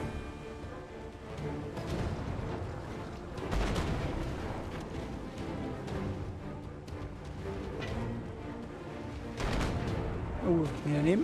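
Ship cannons fire in the naval video game King of Seas, a run of booming shots and sharp blasts, some overlapping, spread through the clip, with someone talking over the battle.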